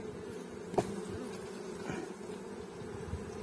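A steady, low buzz of honey bees at an open hive frame fills the air continuously, with a brief sharper tap partway through.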